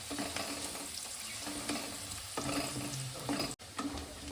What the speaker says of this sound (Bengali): মিনিট 2-3 ধরে একটু ভালো করে ভেজে নেব।